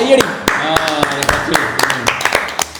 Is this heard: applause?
yes